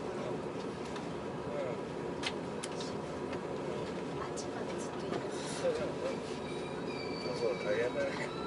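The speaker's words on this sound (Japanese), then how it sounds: "電車。" Steady rumbling rail noise inside a Shonan-Shinjuku Line train running between Konosu and Ikebukuro, with wheel squeal and faint rattles over a constant low roar, and soft voices in the background.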